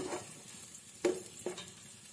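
Aromatics sizzle gently in a pan for chicken tinola, with a soft steady fry and a few sharp clinks of a utensil stirring against the pan, close and fairly quiet, with no voices.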